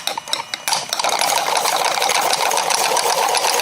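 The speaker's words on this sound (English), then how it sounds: "And we turn on power to these 6-phase wire coils at low speed." A magnetic flywheel on powered 6-phase wire coils at low speed makes an uneven start, then settles into a steady, fairly loud mechanical whir and buzz with a faint rattle.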